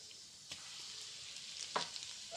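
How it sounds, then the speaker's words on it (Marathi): Mustard seeds splutter in hot oil for a tempering before stuffed brinjal is cooked, a faint, steady sizzle broken by a few small sharp pops, close and otherwise quiet. "जसं आता ही मोहरी एवढीशी टाकली तर लगेच ते फुटायला लागली"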